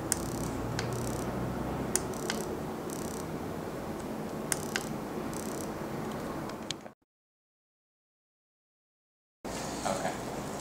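A remote control shock-and-vibrate pet training collar activates at its lowest level, giving faint ticking clicks over a steady hum before cutting to silence, then the hum returns.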